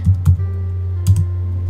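A computer keyboard gets a few quick keystrokes, two clusters of clicks near the start and one around the middle, over a steady low electrical hum.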